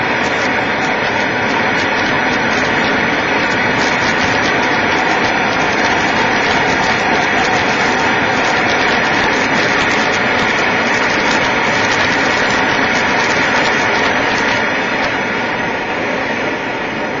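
A pressurized liquid-fuel stove burns with a hot blue flame after its inlet pipe vaporizes the fuel, giving a steady, loud, close roar that holds unchanged from start to finish with no talking.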